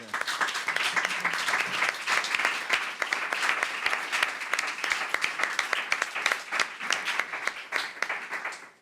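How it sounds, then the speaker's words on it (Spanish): An audience at a community talk gives sustained, steady applause, a dense clatter of many hands that carries on for several seconds before tapering off. "un fuerte aplauso"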